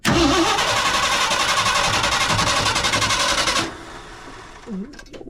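A long-abandoned 1968 Ford F100 Ranger truck engine cranking, a loud rhythmic starter churn lasting several seconds, then dropping to a lower sound as it stops, with a brief voice near the end.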